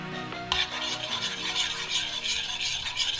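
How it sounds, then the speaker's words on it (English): A spoon stirs 2-in-1 shampoo with blue dye in a container for a no-glue water slime, giving a close, rhythmic scraping and swishing that starts sharply and continues in repeated strokes. "So I added that and I'm gonna stir it up."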